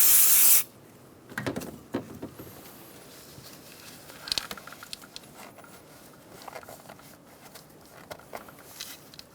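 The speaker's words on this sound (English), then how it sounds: "Using brake parts cleaner and a clean rag," Brake parts cleaner sprayed onto the EGR valve mating surface of a 2000-2007 Ford Focus 2.0L four-cylinder: one loud, close hissing spray burst, then quieter intermittent rubbing and light taps as the surface is wiped with a rag.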